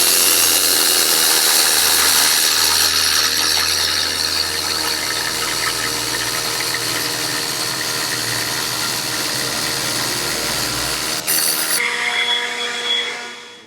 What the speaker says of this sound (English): This is coming to the first phase of our needle gunning